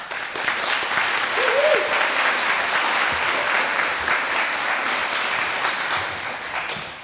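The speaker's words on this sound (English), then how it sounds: "So a round of applause to yourselves." Parents and students in a school audience at a fifth grade recognition ceremony applaud, a broad sustained burst of many hands clapping with a brief whoop near the start, fading slightly toward the end.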